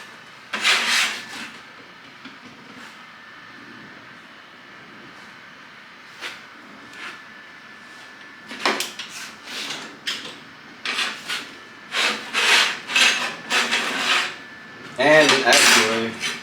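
A cloth rubs and scrubs with acetone across a tungsten electrode, filler rod and 11-gauge steel workpiece at a small welding table, in short uneven swipes with light clinks, close, no talk.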